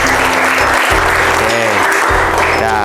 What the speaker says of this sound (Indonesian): Tepuk tangan juga ya.